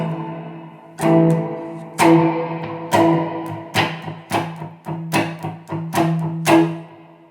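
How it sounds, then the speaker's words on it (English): Electric guitar played through the basic reverb effect of an amp module in a live PA speaker, a series of struck chords with ringing, washed-out tails, steady and moderately loud, with nobody talking. "The next effect is a reverb."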